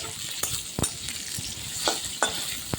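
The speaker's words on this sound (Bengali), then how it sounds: "পেঁয়াজটা হালকা করে একটু নেড়ে নেবো" A large sliced onion fries lightly in a pan for chicken stew and is stirred, giving several close scraping strokes over a soft, steady sizzle.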